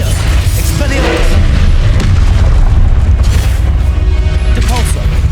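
Spell-casting explosions in the video game Hogwarts Legacy, loud continuous booms and bursts with a heavy low rumble, dense and overlapping, while a voice speaks over the action.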